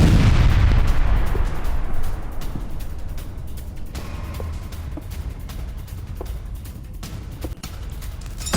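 Russian strike on the port city of Odesa, with a heavy explosive boom up front followed by a rumbling, crackling aftermath, loud and continuous, with scattered sharp bursts and no speech.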